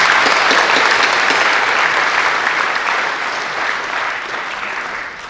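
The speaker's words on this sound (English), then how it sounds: "Let's give us some applause." Audience at a museum Q&A event applauding, a thick, continuous roar of many clapping hands that holds strong and then gradually tapers near the end.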